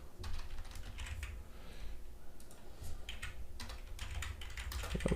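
Steady typing on a computer keyboard during a SCADA conveyor control tutorial, a run of quick, close key clicks with brief pauses, fairly soft and alone without talk.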